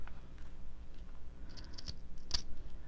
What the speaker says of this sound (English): so now I'm going to cut this right there